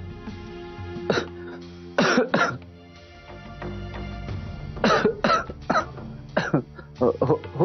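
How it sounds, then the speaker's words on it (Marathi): A man coughs repeatedly in dry, harsh bursts, blamed on dust, in an office scene from a Marathi TV serial. Several clustered coughs and throat clearings come over soft background music, with some speech mixed in. "खोकला कसं काय झाला तुला अचानक?"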